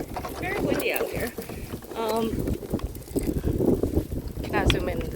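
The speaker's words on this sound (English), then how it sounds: "It's very windy out here." Gusty wind buffeting the microphone outdoors at a skating spot in a continuous rumble, with voices talking faintly underneath and some scraping movement.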